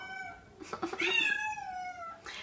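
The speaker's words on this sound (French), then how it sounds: "Arrête de miauler" A cat meows up close, a drawn-out plaintive call with a short break, heard alone.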